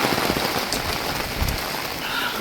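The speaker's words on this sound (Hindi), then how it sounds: "इतनी बारिश हो रही है कि कोई जा भी नहीं सकता है," Heavy monsoon rain pours down at a hilltop fort in Rajkot, a dense, continuous close hiss of drops hitting surfaces with occasional heavier splatters and no voices.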